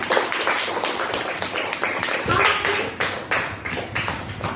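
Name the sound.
clapping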